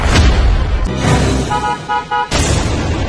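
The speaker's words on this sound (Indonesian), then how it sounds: "itu suara mobil suami aku." A car arrives outside a house, its engine rumbling and rushing noisily, with short horn honks sounding in the middle, loud and close.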